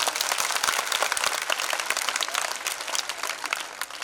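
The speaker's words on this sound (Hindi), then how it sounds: "एक बार जोरदार तालियां बजाते हो" Enthusiastic applause from the audience at a poetry recital, dense continuous clapping at close-to-moderate distance that holds steady before easing slightly at the end.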